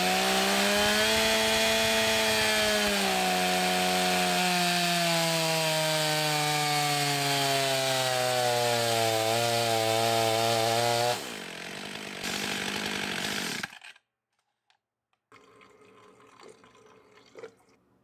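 A Stihl 500i 70cc chainsaw fitted with aftermarket large spikes cuts through wood, its loud engine bogging and pitch sinking under load for about eleven seconds, then revving briefly and cutting out, leaving faint sounds afterward.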